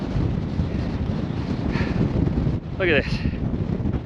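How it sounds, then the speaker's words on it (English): Steady wind roars across an exposed ridge on Wheeler Peak, New Mexico, near the cairns, buffeting the microphone continuously while a person speaks briefly over it. "it is windy"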